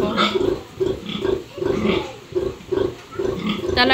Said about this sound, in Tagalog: Talaga pong mababait po ang inahin ni mamang baboy.